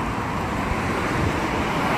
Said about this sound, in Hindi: यहाँ पे गाड़ियों का रश काफ़ी ज़्यादा